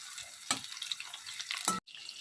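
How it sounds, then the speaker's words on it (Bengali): Fish fry in a pan with a soft sizzle, broken by a few louder bursts of spatter or stirring, then a brief cut to near silence. "এখানে মাছ ভাজা প্রায় হয়ে এসছে"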